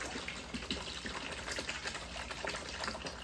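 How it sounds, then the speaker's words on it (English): Water pours steadily into a pot to cover pork belly pieces, a continuous gushing, splashing rush heard up close with no one speaking. "And then we're going to add water to that. Enough to cover the pork belly"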